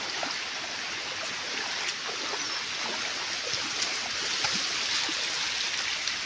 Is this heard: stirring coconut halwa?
no